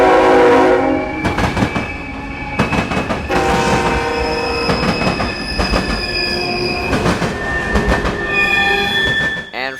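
A freight train, a juice train, rolls across the Plant City rail diamond in Florida, wheels squealing and clacking loudly over the crossing with a steady heavy rumble and a horn blast near the start.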